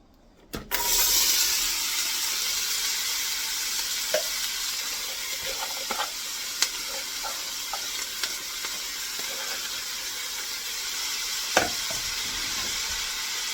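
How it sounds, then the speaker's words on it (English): Onions browning in a pan for Lebanese lentil mjadra, stirred steadily: a constant bright sizzle fills the clip, broken by occasional utensil scrapes and taps. "cooked the onions really well. So almost like a caramelized onions, really brown them."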